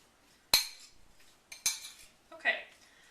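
Strawberries and sugar are mixed in a bowl, with three distinct, sharp clinks of a utensil hitting the bowl at intervals, a softer scraping between them, and quiet stretches around them.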